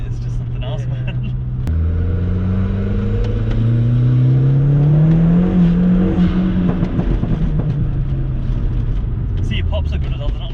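Stage 3 Volkswagen Polo GTI making about 300 bhp, its engine revving hard and rising in pitch, then easing off with crackling exhaust pops. The engine is loud and close, with a sharp change near the start.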